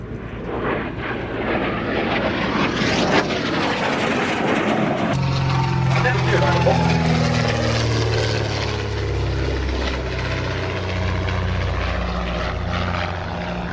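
A Canadair Sabre jet fighter with an Avro Canada Orenda engine roars past overhead, loud and continuous, its engine note sweeping downward as it passes and recedes.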